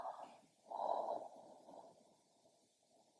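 A slow, deep breath in and out during a gentle beginner yoga stretch, lying face up. The breath is quiet and close, with a fuller swell of air in the middle that fades into a soft exhale.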